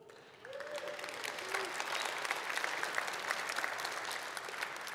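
A church congregation bursts into sustained applause at a Sunday evening service, the clapping rising sharply after a brief pause and holding steady as a dense, close, even patter to the end.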